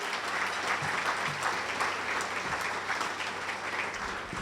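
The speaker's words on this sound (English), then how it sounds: "If I could have a round of applause for our leadership team." Steady applause from a crowd at a school district's State of the District event, many hands clapping at once, sustained evenly throughout without any speech.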